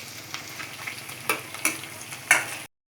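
Onions frying in hot oil in a pan for a chicken curry, a steady crackling sizzle punctuated by a few sharper bursts as they are stirred, close and continuous until it cuts off abruptly.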